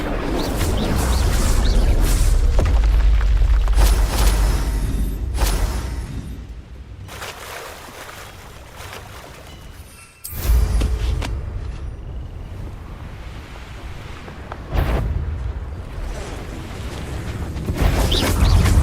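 Booming blasts and rumbling roars from spells cast in the Hogwarts Legacy video game, a loud, heavy explosion sequence with a sharp burst midway and sustained low rumbling throughout.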